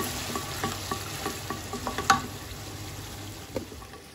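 Sour yogurt being stirred into a beef tehari mixture in a pan, with a steady sizzle under repeated scraping strokes and wet mixing sounds, close and clear with no talk.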